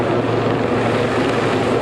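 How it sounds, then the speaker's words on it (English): An Army Lynx helicopter hovers low over a rugby pitch at a Leeds v Halifax match, a loud steady rotor and turbine roar filling the air without pause. "It's an Army Lynx helicopter which is just hovering over the pitch now"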